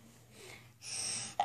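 A single sharp sneeze bursts out near the end after a quiet indoor stretch, brief and close, with a soft intake of breath beforehand.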